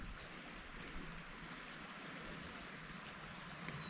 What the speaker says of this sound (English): Creek running right next to it.